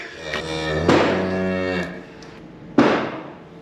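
A cow moos loudly and close by during hoof block treatment on a farm, one long drawn-out low call, followed after a pause by a shorter second moo.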